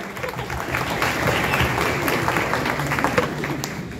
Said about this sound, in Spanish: El aplauso es mucho.